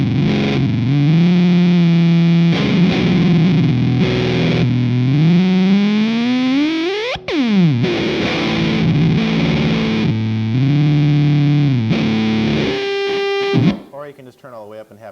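Electric guitar through a Tortuga Effects Wendigo silicon fuzz pedal, loud buzzing distorted tones with pitch sweeps rising to a squeal and dropping back, then a cut to near silence.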